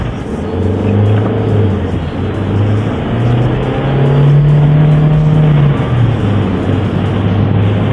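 Stock Toyota Corolla engine driven hard rally-style, a loud steady drone from inside the car with rising and falling revs and a strong low hum throughout, no talk.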